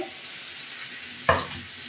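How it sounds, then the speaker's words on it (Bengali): Soft, steady sizzling of chicken frying in a pan, with a sudden louder hiss and clatter as something is stirred or dropped in partway through. "এবার চিকেনটা ভাজা ভাজা করবো"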